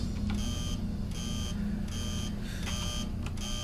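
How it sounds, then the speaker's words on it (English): In the video game Tin Can, a master alarm beeps in a repeating pattern of sharp electronic tones with short gaps between them. A steady low hum runs underneath, and no one speaks. "And we need a master alarm."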